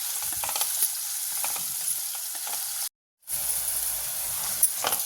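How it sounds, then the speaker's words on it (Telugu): Chopped onion, green chilli and curry leaves sizzle in hot oil in a pan for a makhana curry, a steady close frying hiss with small pops and stirring, broken by a brief dropout. "ఈ ఆనియన్ అంతా బాగా బ్రౌన్ కలర్ వచ్చేదాకా ఫ్రై చేసుకుందామండి"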